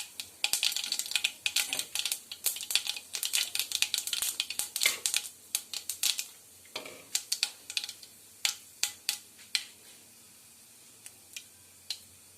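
Mustard seeds spluttering in hot coconut oil in a pan, a dense run of sharp crackling pops that thins out into sparse, isolated snaps toward the end.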